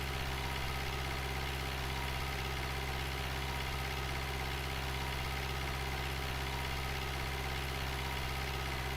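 A tractor engine idles steadily in Farming Simulator 2011, with a constant low mechanical drone and rumble that stays unchanged throughout without any talking.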